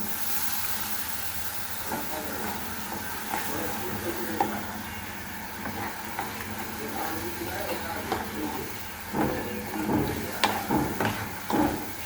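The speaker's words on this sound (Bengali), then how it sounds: "এখন মশলাটাকে আমি ভালোভাবে কষিয়ে নেব" Spice masala with water is stirred and sautéed for chicken curry, giving a steady close sizzle with scraping stir strokes that grow louder and more frequent toward the end.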